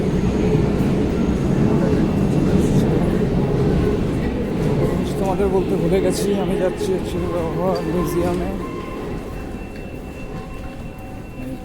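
A Paris metro train rumbles through a station in a loud, steady roar with brief squealing tones midway, easing off toward the end while a person talks over it.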